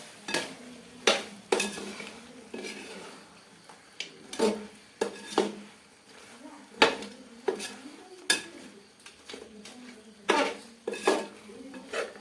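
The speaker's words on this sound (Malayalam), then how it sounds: "നമ്മൾ സവാള കുറച്ച് അരിഞ്ഞിട്ടുണ്ട്. നമുക്കൊന്ന് ഇളക്കി സെറ്റപ്പായി കൊടുക്കാം." A metal spoon stirs and scrapes chopped onions in a pot for a home-style chicken curry, with repeated clanks and knocks against the pot in an irregular rhythm, up close and fairly loud, over a faint sizzle.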